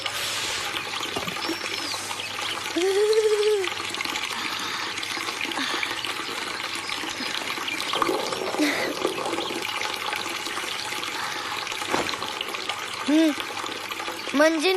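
Water runs from a tap in a Hindi film scene about wasting water: a steady gush and trickle of liquid throughout, moderately loud, with brief voice-like sounds mixed in.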